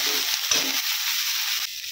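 Garlic paste, slit green chilies and ginger-onion paste hit hot oil in a pan, a dense hissing sizzle with a few stirring bumps early on, steady and close, no speech.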